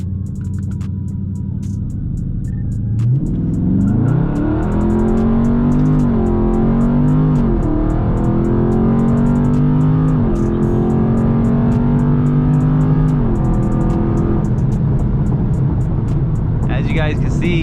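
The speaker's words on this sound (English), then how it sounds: "we're gonna try a dig real quick in stock mode" A Dodge Charger 392 Scat Pack launches in stock mode. The V8 idles, then surges into a loud rising rev that climbs through a couple of gear changes and holds a strong roar for about ten seconds before backing off.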